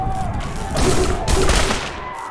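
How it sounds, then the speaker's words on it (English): Bursts of assault rifle fire during a prison riot in the Prison Simulator video game, two close, loud volleys that swell then fade over a steady game background. "Is that an assault rifle?"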